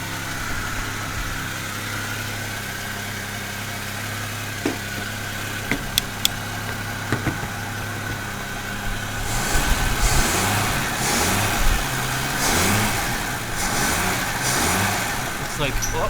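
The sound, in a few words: rebuilt Volvo 164 engine running on first start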